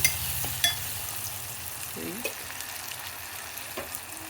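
Tomatoes fry in a pan with a constant close sizzle, broken by a few light stirring clinks and scrapes, with no talking over it.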